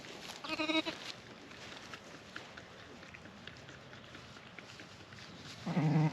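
Sheep and lambs bleat in a quiet barn during lambing season, one call near the start and another near the end, with soft shuffling and background noise between.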